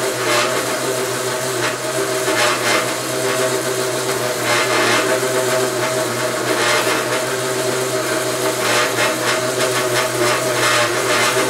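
A bandsaw cuts through metal stock for a knurling tool clamp, giving a steady, loud mechanical drone with a constant low hum and faint periodic rasping pulses running throughout, with no speech.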